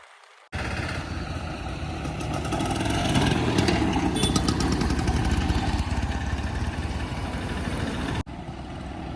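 The engine of a 1998 Bajaj Chetak Super scooter runs steadily and close by for about eight seconds, a continuous mid-pitched drone with no talking over it.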